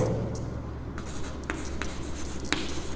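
Marker or chalk writing on a classroom board during a math lesson, a series of short scratchy strokes and taps with a low hum underneath.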